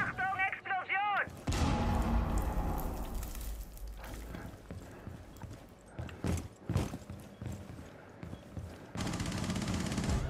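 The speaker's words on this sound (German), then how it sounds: "Achtung, Explosion!" Explosions and gunfire from Rainbow Six Siege come in a loud boom followed by rumbling blasts and scattered sharp cracks, with a warbling electronic tone just before, all heard close.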